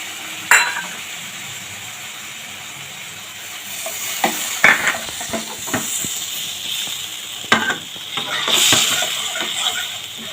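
Spice masala frying in a pan for a spicy giant prawn curry, a continuous hiss and sizzle with intermittent spoon scrapes and clatters against the pan, loudest in bursts of stirring.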